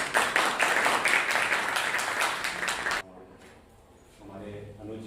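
Audience applause at a lecture-series event welcoming a speaker, about three seconds of brisk clapping that cuts off sharply, then a voice begins talking through a microphone.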